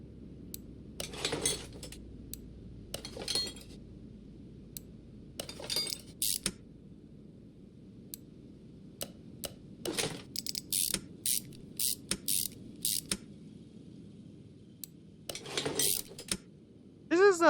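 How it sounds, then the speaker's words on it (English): Metallic clanks, ratcheting and tool clicks come in bursts as a steering rack and sway bar are fitted to a 1960 Chevrolet Corvette C1 barn find in Car Mechanic Simulator 2021, with short quiet gaps between the bursts. "Now we got to put the steering rack in. Put the sway bar in."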